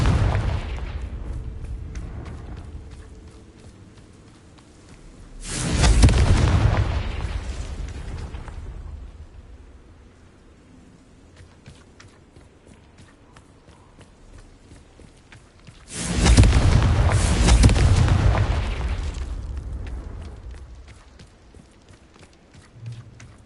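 Two fiery Confringo spell blasts go off in Hogwarts Legacy gameplay, each a loud booming burst that rolls and fades over a couple of seconds, the pair spaced about ten seconds apart against a low ambient background.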